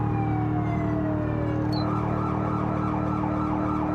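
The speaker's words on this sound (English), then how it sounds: "Both turned on our Yelp sirens at the same time." A police siren in a driving video game wails with a rapid yelping pattern, loud and continuous over a steady engine drone.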